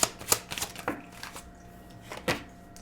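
Tarot cards being shuffled by hand, a few sharp riffling bursts with quieter rustling between, close and clear with no talk.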